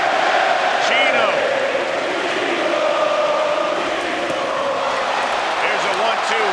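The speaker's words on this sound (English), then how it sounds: "You hear the crowd chanting" A boxing arena crowd chants "Chino" for Maidana during a Mayweather fight, a loud, sustained roar with rhythmic rising and falling voices and a commentator talking over it.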